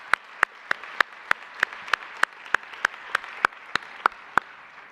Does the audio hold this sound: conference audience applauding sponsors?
yes